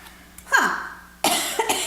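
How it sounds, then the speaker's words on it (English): A person with a Christmas cold coughs twice, a short harsh burst followed by a louder, longer coughing fit, close and with no talk. "As I cough."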